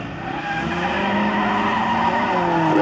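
A rallycross race car skids on the track during a Kalix heat. Loud tire noise and engine roar run steadily and close, with no talking.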